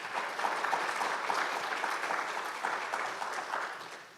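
An audience at a summer fellowship celebration claps for facilitators, dense even applause from a roomful of people sustained throughout and fading slightly at the close.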